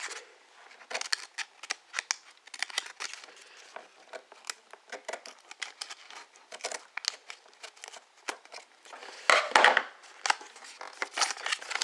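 A paper origami Halloween pumpkin stem being trimmed with scissors, with many quick, close snips and paper rustles in an uneven rhythm and a louder flurry of handling toward the end.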